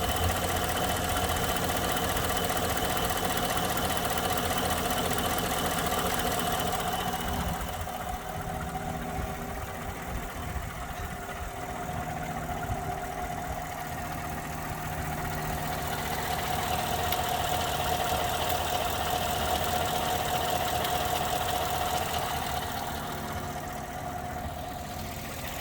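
A 2014 GMC Sierra SLE pickup idles steadily with the hood open, heard close into the engine bay as a constant even hum with a faint ticking texture and no talking.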